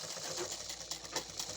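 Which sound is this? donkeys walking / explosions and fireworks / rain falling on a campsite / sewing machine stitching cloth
sewing machine stitching cloth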